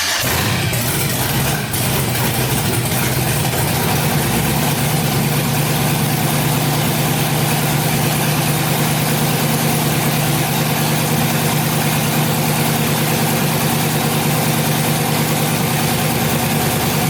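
An LS-swapped engine with VATS active idles steadily and continuously, its low, even hum close by and alone from start to finish.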